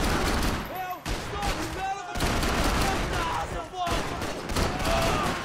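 Gunfire from the video game Max Payne 3 rings out in several bursts of shots, mixed with game sound and talk.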